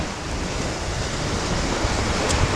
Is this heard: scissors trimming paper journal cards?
no